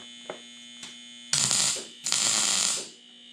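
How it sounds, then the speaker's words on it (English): Tack welding metal pieces together in a garage workshop: two short bursts of harsh crackling buzz, each under a second long, close by over a steady electrical hum, with brief clicks between them. "right now we're just burning a little metal, tacking it together, keeping it straight."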